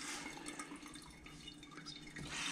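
Water runs from a kitchen faucet at a lake house, a quiet, steady flow with light splashing and dripping, close by and alone.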